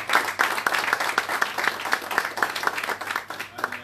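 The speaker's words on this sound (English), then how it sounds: "You should clap for him." Audience applause at a town hall meeting and fundraiser in London, a steady burst of many hands clapping close by for about four seconds, fairly loud and even.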